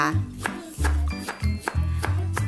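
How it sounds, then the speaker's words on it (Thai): A knife chops fresh lemongrass on a cutting board while preparing Thai tom yum with soft-fleshed fish, giving about six sharp, close thuds in an irregular rhythm with brief scraping between them. "เสร็จแล้วเราก็มาหั่นตะไคร้ค่ะ"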